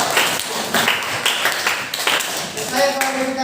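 A classroom of students claps hands in a quick burst of applause, with chatter mixed in near the end.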